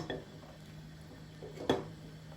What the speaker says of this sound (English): in this pot I am gonna put my eggs